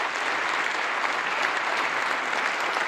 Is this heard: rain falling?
no